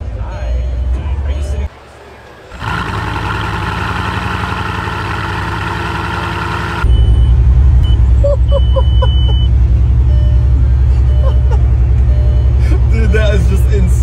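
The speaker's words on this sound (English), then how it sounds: "I just started a Bugatti." A $6 million Bugatti is started up: after a brief lull and a whirring crank, a high whine holds for a few seconds before the engine catches into a loud, deep, steady idle rumble, with people talking over it.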